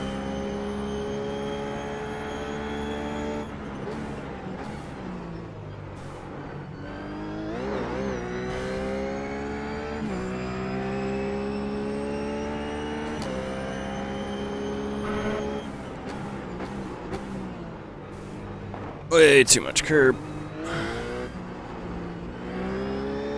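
RUF GT3 race car in iRacing at Zolder Grand Prix, engine revving hard and pulling through gears with rising harmonic whine, steady and close, a brief burst of curb rattle near the end and a short spoken remark.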